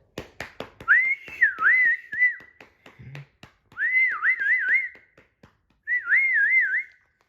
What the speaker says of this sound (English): The crowd clapped and whistled.